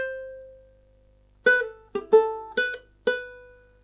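A ukulele plays the opening string-and-synth line of a song: one sustained plucked note, a pause, then a quick rhythmic run of bright, close plucked notes with sharp attacks, and no talking.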